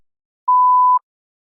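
A single clean electronic tone marks the start of a timed spoken response on a practice language test, holding steady for about half a second in silence before cutting off abruptly.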